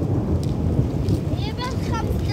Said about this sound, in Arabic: سمع صوت الرعد